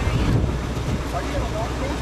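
Windy coastal weather at Geraldton, a loud roar of wind buffeting the microphone with a low rumble, steady and close throughout the short stretch.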